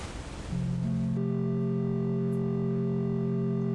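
Sustained electronic tones with steady low harmonic drones, swelling in after a brief noisy burst and holding evenly to the end.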